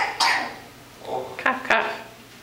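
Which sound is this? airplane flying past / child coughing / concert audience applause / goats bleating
child coughing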